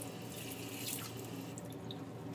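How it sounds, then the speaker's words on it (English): Tap water runs steadily into a flask at a sink during cleanup after a silver mirror experiment, a continuous close splashing hiss with faint drips, no voices. "put the running water on that"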